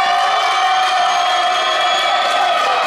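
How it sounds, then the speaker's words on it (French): A Miss Rouen 2018 pageant audience applauds and cheers for a contestant, a loud, continuous wash of crowd noise with shouts and whoops held at an even level throughout. "On vous applaudit très fort."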